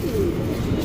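Racing pigeons give a brief, low, soft coo, close and on its own without talk.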